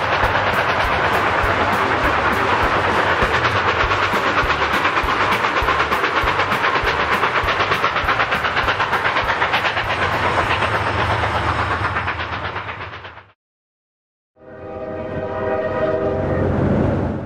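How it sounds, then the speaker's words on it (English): A 1944 Berkshire steam locomotive hauls an excursion train around Horseshoe Curve, a dense rhythmic chuff and rumble of cars rolling close by, breaking off abruptly before resuming. "a 1944 Berkshire hauls the first public excursions around Horseshoe Curve in over 30 years"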